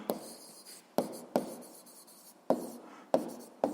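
A pen writing on paper during a physics lesson, close and quiet, in short scratching strokes that start sharply and trail off, six bursts separated by brief pauses, with no talking.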